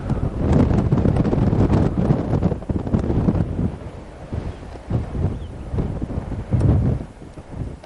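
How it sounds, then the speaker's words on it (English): Strong wind buffets the microphone in heavy low rumbling gusts, rising and falling throughout with no other sounds standing out. "It's a little windy up here"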